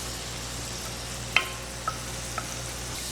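Flour being stirred into butter with onion, garlic and pimento to make a roux, a soft continuous sizzle close by with a few light clinks of the spoon against the pot.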